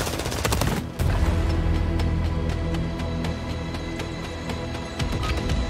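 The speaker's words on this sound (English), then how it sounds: "I'm taking fire." Rapid automatic gunfire in Call of Duty Warzone, dense bursts of shots rattling loud and close with heavy low booms, nearly continuous for several seconds after a brief gap near the start.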